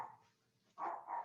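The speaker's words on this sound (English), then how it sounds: "Shush, dog." A dog somewhere indoors gives a couple of faint, short barks in quick succession, quiet and a little distant, with no talking.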